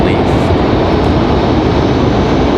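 An airplane at Raleigh Durham International Airport makes a loud, continuous jet roar that stays dense and close throughout the short stretch.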